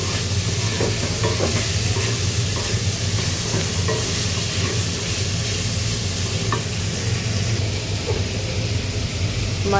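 Boiled chickpeas sautéed with spices in a pan give off a loud, steady sizzle and hiss, with scraping stirring strokes running continuously over it.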